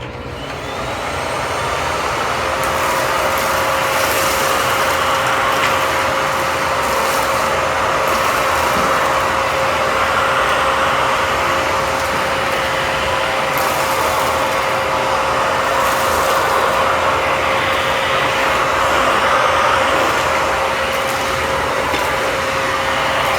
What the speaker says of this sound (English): So let's clean with the vacuum.